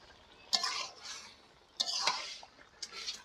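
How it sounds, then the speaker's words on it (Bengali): Prawns are stirred into a simmering jackfruit curry in a pan, giving three quiet bursts of metal spoon scraping and clinking against the pan with a soft liquid slosh, separated by brief near-silent gaps. "এবার দিয়ে দেবো চিংড়ি মাছ নেড়ে দেবো"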